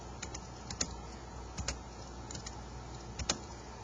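A computer keyboard is tapped in sparse pairs and small clusters of soft keystrokes while an expression is entered on a graphing page, over a steady background hiss.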